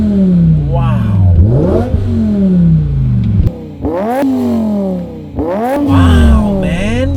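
A V10-powered BMW 850i is blipped and revved in quick successive bursts, rising to a shrill wail and falling back, loud and close, with a brief dip toward idle between pulls.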